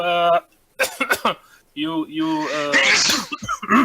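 A person sneezes sharply in the middle of a tabletop role-playing game session, the burst set among voiced exclamations and other players talking close by.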